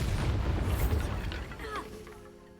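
A Bombarda blasting spell bursts in Hogwarts Legacy, a rolling boom with crackling debris that fades over a couple of seconds, with a brief whistling tone as it dies away.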